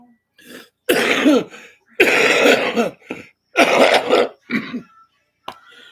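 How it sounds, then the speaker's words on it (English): A series of harsh, wet coughs with phlegm and throat clearing, several bursts in a row with short pauses between, close up and loud. "I have a cough with some phlegm, and every now and then it comes up."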